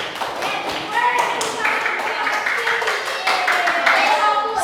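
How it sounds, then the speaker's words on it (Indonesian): Children in a primary classroom clap their hands together in a lively burst of taps and claps, with scattered young voices and chatter mixed in throughout. "Oke, tepuk tangan untuk kita semua."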